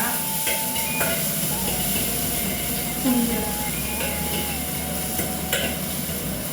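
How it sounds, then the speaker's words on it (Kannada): A kitchen chimney extractor fan runs with a steady, close whooshing hum over faint cooking sizzle and stirring, with no voices. "ಹೊಗೆ ಬರ್ತಾ ಇರೋದ್ರಿಂದ ಸ್ವಲ್ಪ ನಾನು ಚಿಂಬೆ ಆನ್ ಮಾಡ್ತೀನಿ"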